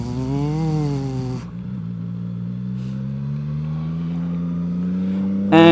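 A CFMOTO 675NK motorcycle engine hums steadily while riding, its pitch rising and dipping early on, then settling into a smooth, continuous drone that climbs slightly toward the end, with no talk.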